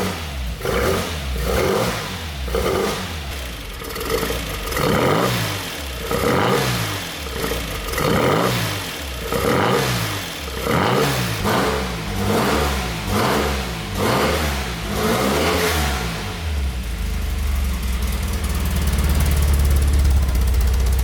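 A newly installed race engine in an ex-works MGB revs hard over and over in rhythmic bursts, loud and close, before settling into a steady, rough roar.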